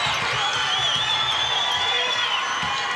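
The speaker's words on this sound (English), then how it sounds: "Pierre crowd pretty loud tonight" A packed high school boys' basketball tournament crowd cheers and roars steadily in a gym, with loud sustained whoops and shouting and no break in the noise.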